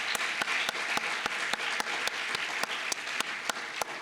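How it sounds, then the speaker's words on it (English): Audience applause at a school graduation ceremony, a dense steady clapping from a crowd with a few sharper individual claps standing out at regular beats. "let's have a big round of applause"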